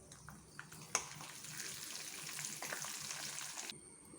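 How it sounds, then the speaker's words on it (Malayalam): Chili powder dropped into hot coconut oil, a bright crackling sizzle that swells after a sharp tap and holds steadily before cutting off. "അത് എണ്ണയിലേക്ക് ഇട്ട് കൊടുക്കുകയാണ്."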